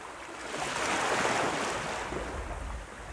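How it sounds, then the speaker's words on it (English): Ocean surf washes in a broad, hissing swell that rises, crests and slowly recedes, close and even, with a faint low roll beneath and no voices. "just like the ocean waves."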